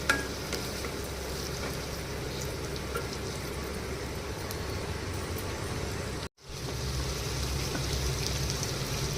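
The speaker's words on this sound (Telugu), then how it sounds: "మునక్కాయలు కొంచెం వేగాలి." Drumsticks frying with tomato in a pan for sambar give off a steady, dense sizzle that continues for the whole stretch, cut only by a brief silent break near the end, with no talking.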